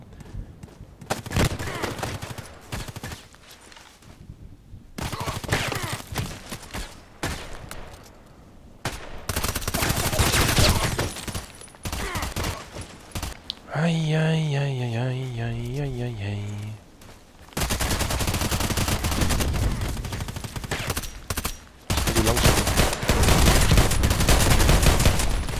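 Repeated gunfire from an online first-person shooter, Contract Wars, comes in loud clustered bursts through most of the stretch, with brief quieter gaps and a tonal in-game sound partway through.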